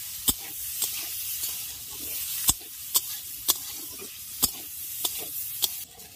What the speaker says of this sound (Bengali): গাজরটা দেওয়ার পর গাজরটাকে আগে 2 মিনিট একটু ভেজে নিলাম।